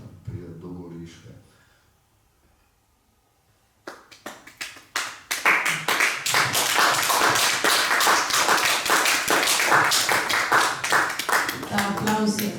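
Applause from the audience at a Slovenian book presentation, following a brief moment of speech and near-silence: dense, sustained clapping that swells quickly and stays loud to the end.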